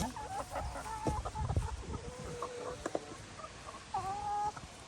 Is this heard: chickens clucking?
yes